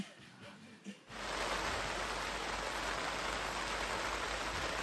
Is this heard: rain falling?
yes